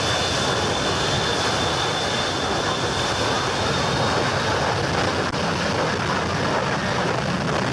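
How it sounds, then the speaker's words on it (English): A loud, continuous roar of an airplane's engines at full power, steady and rushing from start to finish. "Everyone was excited to see the plane take off"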